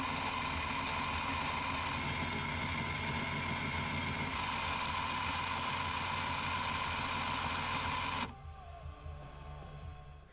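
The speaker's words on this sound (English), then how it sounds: "In the meantime, I'll wind up the pickups." A guitar pickup being wound on a small motorized winding machine, a steady droning whine with a high tonal hum, constant and close, dropping to a quieter mechanical rumble after the motor slows near the end.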